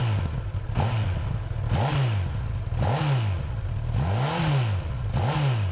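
A 2018 Honda CB1000R motorcycle, 145 hp, revs through its double exhaust with a freed-up rear end, giving five loud, close throttle blips that each rise and fall over a steady idle.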